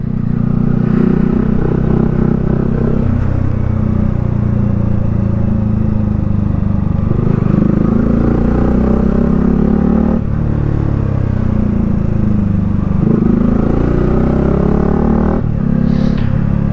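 Yamaha R15 V3 motorcycle ridden along a mountain road, a loud continuous engine drone heard up close from the rider's position, with the pitch rising and falling through shifts and throttle changes, no talking.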